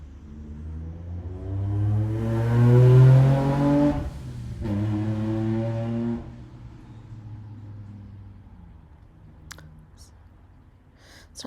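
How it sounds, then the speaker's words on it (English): A loud vehicle passes on a main road outside, its engine rising to a peak and then fading away over several seconds, followed by quiet with a few faint clicks. "when loud motorcycles or sirens go by, I do sometimes get a little noise"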